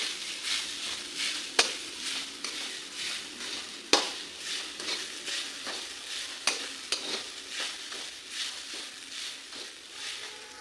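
Grated coconut roasts in hot ghee in a kadhai, with a steady close sizzle broken by periodic scraping stirs and occasional sharp clinks of the spoon against the pan.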